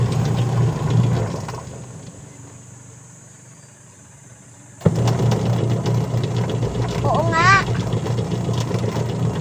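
Washing machine running with a noisy, uneven motor hum and rattle during belt repair, a loud steady drone that cuts out midway, then restarts abruptly and runs on with a brief high squeal.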